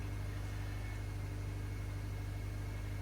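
A 2007 Subaru STI engine idles steadily right after its first start, a low, even hum with a faint mechanical whir, close and constant with no voices over it.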